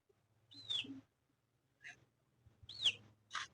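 Caged lovebirds and cockatiels give a few sharp, separate chirps and whistles in a quiet room, with a low hum underneath.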